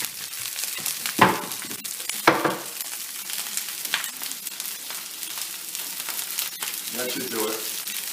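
Broccoli sizzling in oil while being stir fried in a pan, a steady crackling fry with a couple of sharp scraping stirs near the start and occasional clinks.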